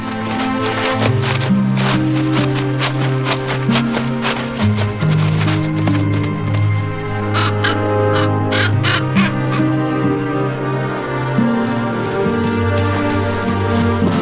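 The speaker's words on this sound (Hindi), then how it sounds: "स्लावा कौवे को अपने निजी इलाके में बुलाता है" A crow caws repeatedly in the wild, harsh calls in irregular bursts, fairly close, layered over a steady outdoor background with no talk.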